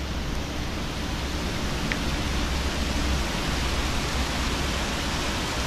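River current flowing in a steady, broadband rushing wash, continuous and fairly loud, with no talking.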